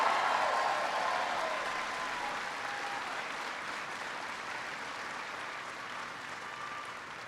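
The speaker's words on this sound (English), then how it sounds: "Give Claire a big round of applause." A large audience applauds Senator Claire McCaskill at a presidential economy speech, dense sustained clapping that starts loud and slowly tapers off over about seven seconds.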